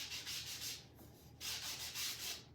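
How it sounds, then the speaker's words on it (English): Wooden frame pieces for a vintage oval plaque being sanded by hand, bursts of close rasping strokes in two rhythmic runs separated by a short pause. "He's sanding everything down for me."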